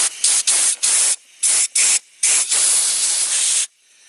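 Short hissing blasts of compressed air cleaning a Toyota Corolla mass air flow sensor, several quick loud puffs followed by one longer spray of about a second, close and with no one talking.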